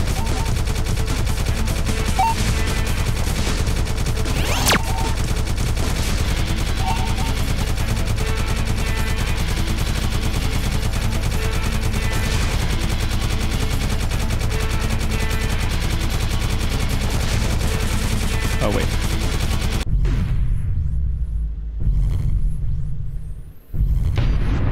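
Spaceship laser shots in the space shooter Galaxy Warfighter, a continuous loud barrage of rapid fire over droning game music and rumble that cuts off abruptly near the end.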